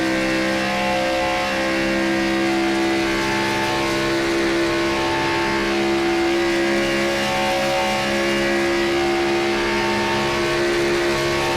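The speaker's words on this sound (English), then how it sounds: "You hear the RPMs, they drop, but not a whole lot." A NASCAR Gen 6 Cup Series race car at Michigan holds a loud, sustained engine roar, with the revs easing slightly through a corner but staying high, a dense continuous drone with no voices.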